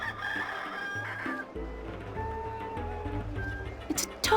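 A sorry-looking talking bird in The Longest Journey PC game squawks and crows in rooster-like bursts over a steady musical background, with a louder burst near the end.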